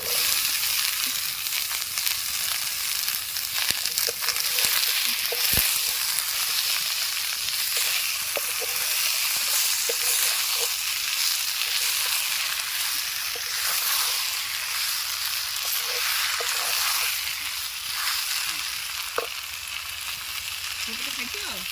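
Green peas frying in a pan for aloo dum, cooked outdoors at a picnic, give a steady broadband sizzle that continues throughout with a few brief scrapes of stirring.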